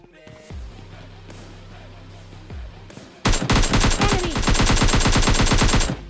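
An AKM rifle in the mobile shooter game PUBG Mobile Lite rattles off a loud, rapid automatic burst of gunfire after a few quieter game sounds and isolated shots.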